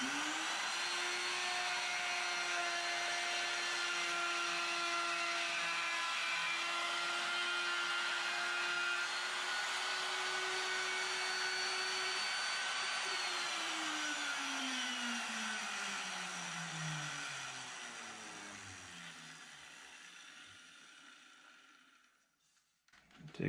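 A router fitted with a 1/4 inch bit cuts a radius into a guitar body in a loud, steady high whine with a sustained motor tone, then the pitch slides downward as the motor spins down and fades toward the end.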